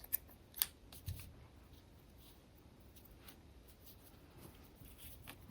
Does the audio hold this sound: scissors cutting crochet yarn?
yes